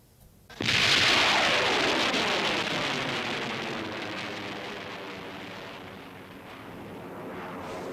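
Artificial rain falling after a cannon-like rain shot in a French film scene: a sudden loud burst gives way to a dense, steady hiss of heavy rain that slowly eases but persists throughout, with no voices.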